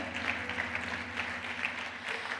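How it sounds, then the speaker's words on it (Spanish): A church congregation claps in sustained, dense applause at moderate distance, steady for the whole stretch with no voices above it. "le puedo dar un fuerte aplauso al Señor"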